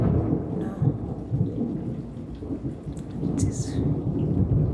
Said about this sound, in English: The rains are coming and the thunderstorm.